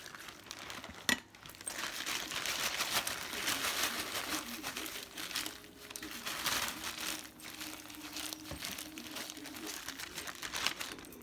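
Raw chicken being shaken and coated again in seasoning inside a plastic bag, producing continuous close crinkling and rustling with brief sharp crackles and bumps, steady for the whole stretch.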